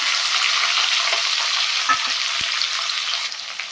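Thin slices of onion sputter in hot oil over a medium flame, giving a loud continuous sizzle with a few soft knocks of a spoon stirring the pan.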